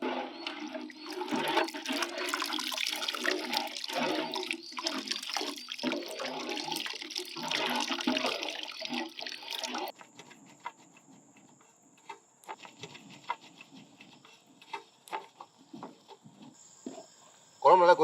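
Tamarind water being poured into a pot for a village-style masala fish curry, a loud continuous splashing pour for about ten seconds that then stops, followed by quieter scattered clinks and handling noises.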